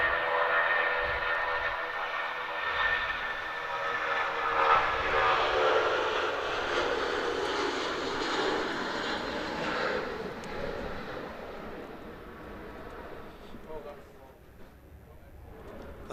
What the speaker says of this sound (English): A stunning Rolls-Royce blaster departure off 2-3 right.